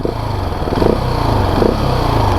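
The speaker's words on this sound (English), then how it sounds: "The exhaust is pretty quiet. If you blip it a little bit" A Husqvarna 701 SM supermoto's single-cylinder engine idles with a steady, fairly quiet exhaust note, then is blipped briefly twice, rising and falling in quick revs.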